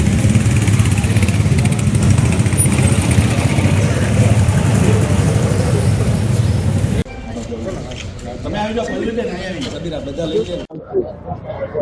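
A motorcycle sets off on a long road trip from Junagadh to Kanyakumari, its engine idling with a steady low rumble under nearby voices, then dropping to a quieter background.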